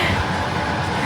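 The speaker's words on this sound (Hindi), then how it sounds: "पीछे ना पंखा चल रहा है" A ceiling fan runs in the background of a home kitchen, giving a steady, fairly loud rushing whoosh with no pauses.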